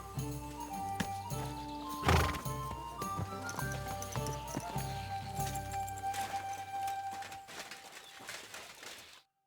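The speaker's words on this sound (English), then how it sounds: "I have a horse for you." A horse in the video game Kingdom Come: Deliverance II gives a loud whinny, then its hooves clop in a steady rhythm for several seconds, heard close and alone before the sound cuts off.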